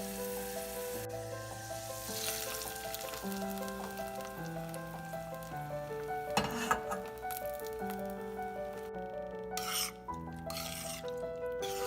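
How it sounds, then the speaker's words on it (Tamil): Cashews and raisins fry in ghee for sweet sakkarai pongal, giving a steady, soft sizzle that sits beneath instrumental music throughout. "நெய்யில் முந்திரி திராட்சையை வறுத்து போடணும்."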